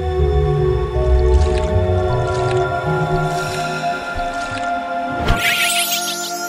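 Watering a flower in a Roblox Brookhaven game: a steady, close liquid pour with repeated squishy, dripping splashes over a low game background hum, ending in a brief sharp chime.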